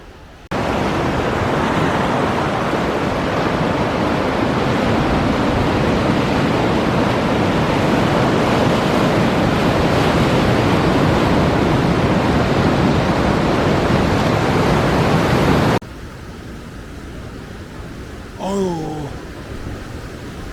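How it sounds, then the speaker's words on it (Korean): Pacific surf on a California beach on a cloudy day roars steadily and close for about fifteen seconds, mixed with wind buffeting the microphone, then drops to a quieter wash as a voice speaks briefly. "오래간만에 바다에 왔습니다 태평양에."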